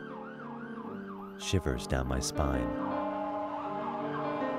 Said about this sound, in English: The sound of sirens. Maybe an ambulance,